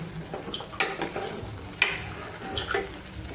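Drumsticks cooking in masala in a pan give a soft sizzle, broken by a few sharp clinks of a utensil stirring against the metal, fairly close and moderate in volume, with no talking.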